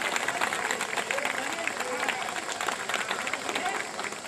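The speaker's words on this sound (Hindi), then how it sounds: "हाँ, आप जोरदार ताली बजाइए सभी" Outdoor political rally crowd clapping hard and continuously, a dense wash of applause with voices mixed in throughout.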